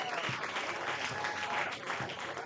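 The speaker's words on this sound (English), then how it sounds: "But the Hardhat fans cheering on." Baseball fans at a Post 22 Hardhats game clap and cheer steadily. The applause is dense and continuous and stays at an even loudness.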